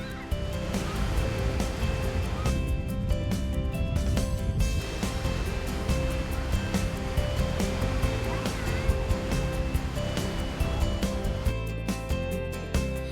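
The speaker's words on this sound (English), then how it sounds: "The campsite is right by the sea." Ocean waves roll in at a seaside campsite, a loud, continuous wash of surf that stays steady throughout with no pauses and no voices over it.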